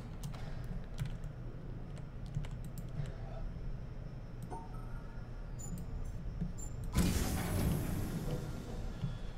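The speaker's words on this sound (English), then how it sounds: "I just realized I'm using keyboard and mouse for this" Computer keyboard typing and mouse clicks during a puzzle game, a steady run of faint, close taps at low level, then a sudden louder burst of broadband clatter near the end.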